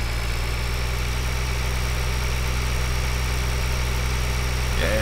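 A tractor engine idles in a farming video game, a steady low mechanical drone with constant vibration and no talk.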